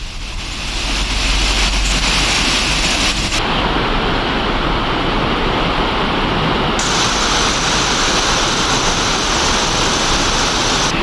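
Chinna Suruli waterfall in Theni district, swollen with heavy water flow, pours as a loud, continuous, broadband roar with no voices over it.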